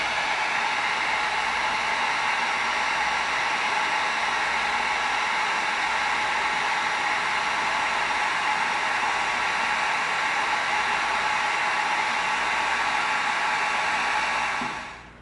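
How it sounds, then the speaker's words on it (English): A heat gun blows a steady, loud, even whooshing roar across cut EVA foam for the whole stretch, cutting off abruptly at the end, with no talking. "Now when we hit this with the heat gun, it's gonna cause these cuts to separate"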